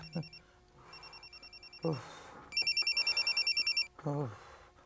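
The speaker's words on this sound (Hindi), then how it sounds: "घंटी एक मिनट फ़ोन बंद कर दें प्लीज़" A telephone rings in repeated electronic trilling bursts, interrupted by people talking nearby.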